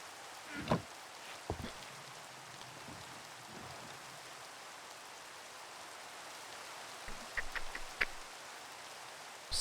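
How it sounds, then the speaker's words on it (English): Rain falls in Minecraft, a soft, steady, distant patter and hiss with a few brief crisp clicks and splashes scattered through it, quiet and alone with no voices. "A nice rainy atmosphere."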